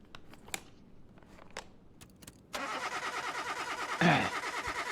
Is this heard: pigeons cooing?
no